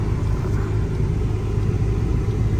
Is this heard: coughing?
no